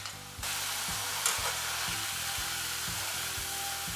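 Ribbon pakoda deep-frying in hot oil, a steady bright sizzle and crackle throughout with a faint repeating low thump beneath, close and fairly loud, no voices.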